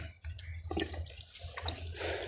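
On a cattle farm, water trickles into an automatic waterer while a calf drinks, giving faint drips and soft slurps over a low hum.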